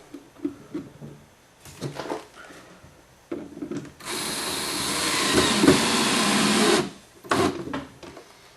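A power drill drives a screw into the wooden end of a Kenya top bar hive. Short handling knocks come first, then a steady grinding whir that lasts about three seconds and ends with a few more clunks.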